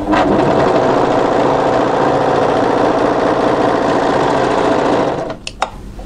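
An overlocker stitches a tunic side seam down to the hemline, running as a loud, steady mechanical whir for about five seconds before stopping, followed by a couple of brief clicks.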